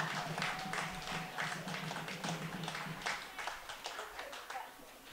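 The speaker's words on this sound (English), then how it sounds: "how about a nice round of applause for our ball kids from Washington Premier doing a fantastic job" Crowd applause for the ball kids at a Western Conference Championship women's soccer match, Seattle Sounders Women versus LA Villa FC: steady, moderately distant clapping that fades slightly toward the end, mixed with low crowd murmur.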